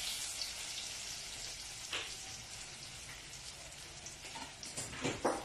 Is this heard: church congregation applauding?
no